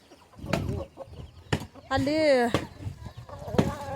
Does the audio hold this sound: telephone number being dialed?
no